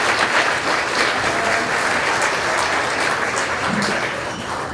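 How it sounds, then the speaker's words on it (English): Steady applause from an audience at an annual awards celebration dinner, honoring event sponsors; dense clapping holds at full strength throughout and tapers slightly at the end. "Big round of applause for those sponsors"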